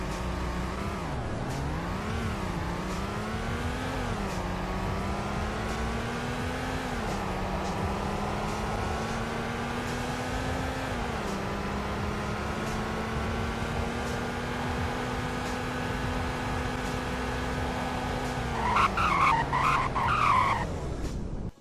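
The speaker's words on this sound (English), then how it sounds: "here's a 0 to 100 in braking test" A car in a video game accelerates from standstill through several gear shifts, its engine whine rising and dropping steadily, then brakes hard near the end with a brief skid and tire squeal, all close and without talk.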